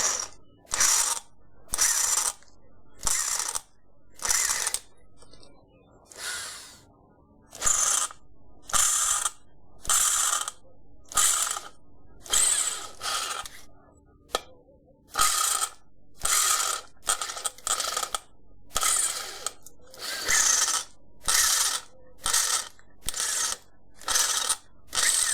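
Tool removing rivets: about twenty evenly spaced bursts of harsh, close mechanical grinding, each lasting around half a second and separated by short pauses, with no talk.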